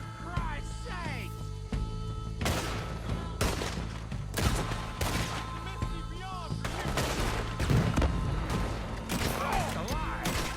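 Repeated gunshots and volleys of rifle fire in Red Dead Redemption 2, sharp cracks at an irregular pace over a steady low background, with some shots near and others more distant, and voices calling out between them.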